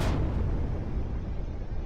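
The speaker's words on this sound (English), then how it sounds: "My launch pad has exploded." A rocket launch pad explodes in a space program video game, a loud deep boom that starts sharply and trails off into a sustained low rumble.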